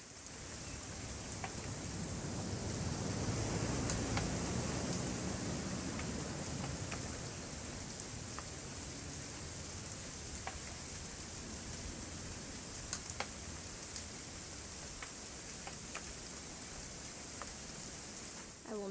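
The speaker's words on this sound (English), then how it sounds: "It's gonna rain the whole weekend, isn't it?" Steady rainfall in the video game What Remains of Edith Finch, a continuous broadband hiss that swells slightly early on and then holds even, with scattered sharp drips and taps over the constant wash.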